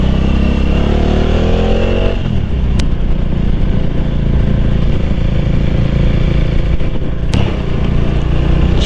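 A motorcycle engine pulls hard, its pitch climbing for about two seconds before a gear change into third, then holds a loud, close, steady drone with wind noise and a couple of sharp clicks.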